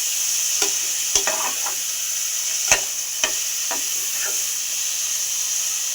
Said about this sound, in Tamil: வெங்காயம் வதக்கு வதக்கு வதக்கு